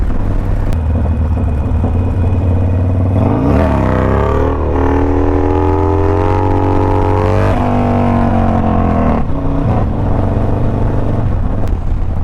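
A motorcycle riding along Oso Parkway, a loud close engine drone with a rising and falling rev in the middle as it shifts and accelerates, steady throughout.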